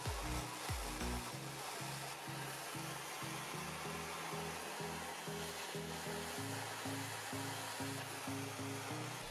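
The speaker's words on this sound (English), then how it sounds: "With the smaller holes I found jamming the flame straight through the hole gave the best results." Blowtorch flame forced through small holes drilled in wood, a steady loud roaring hiss with a rhythmic pulsing as the flame is jabbed in and out of each hole, close and continuous with no talk.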